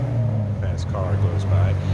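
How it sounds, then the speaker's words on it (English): A fast car speeds past on a city street in Montreal, its engine hum rising and fading under steady close talking. "Fast car goes by."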